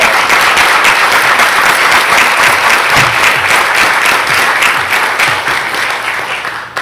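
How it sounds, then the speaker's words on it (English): A school board gathering breaks into loud, sustained applause for parents and guardians standing in the audience, a thick wash of clapping holding steady before tapering off near the end. "you deserve a round of applause."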